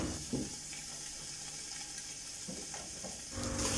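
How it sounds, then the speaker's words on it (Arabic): Water, boiled hot, poured into a cooking pot on the stove, a soft steady splashing stream with faint sizzling, fairly quiet and without speech. "وتقوموا جايبين ميه. كب كب كب الميه"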